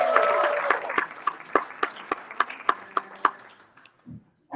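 Scattered clapping from a small audience, a dozen or so sharp individual claps spaced unevenly over a low murmur, thinning out and stopping near the end.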